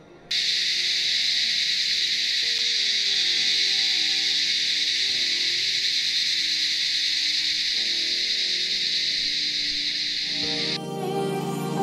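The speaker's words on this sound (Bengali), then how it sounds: "শুনেছি নাকি এখানে প্রচুর ঝিঝি পোকা ডাকে" Crickets in a hill valley at evening hold one steady, loud, high-pitched drone for about ten seconds before it cuts off abruptly near the end.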